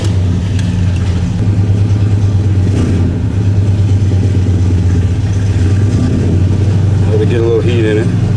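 A Chevy truck engine with a blown-up turbo idles to warm up after a cold start, a steady loud low rumble throughout with a brief rev near the middle and some faint clatter and voices at the end.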